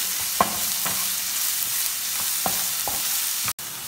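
Drumstick flesh thokku sautés in a pan with a steady background sizzle, punctuated by several distinct spatula taps and scrapes at irregular intervals, close and fairly loud.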